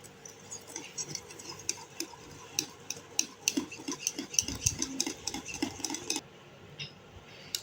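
Chocolate cake batter is stirred in a bowl, giving soft, irregular scraping and clinking taps of a utensil against the bowl, close and fairly quiet.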